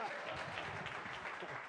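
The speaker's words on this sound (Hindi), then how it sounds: "ठोको ताली" Studio audience applause during a Punjabi TV interview with a guest, a steady dense wash of clapping lasting under two seconds, moderately loud, with voices mixed in.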